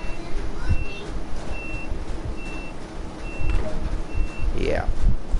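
Door-closing warning beeps on a bullet train in Train Sim World 2: a steady series of short, evenly spaced electronic beeps repeating over cab rumble, with a rising mechanical whine near the end.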